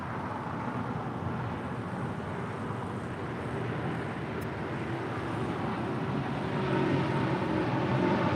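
A steady broadband roar from an All Nippon Airways airliner at LAX, a continuous wash of engine noise that swells slightly louder toward the end, with no talk over it.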